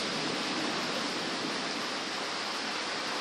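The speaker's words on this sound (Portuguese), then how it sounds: "Eu não me conformo, eu nunca vi uma coisa dessa. Gente! Olha lá o que é gelo, Yara." A hailstorm in Ibaté pelts down with torrents of water, making a dense, loud, continuous roar of hail and pouring rain with no pauses.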